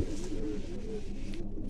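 A Kaldoma pigeon coos in soft, low, rolling murmurs close by, a steady throaty burble with no talk.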